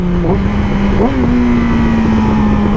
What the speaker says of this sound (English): I just upshifted without the clutch.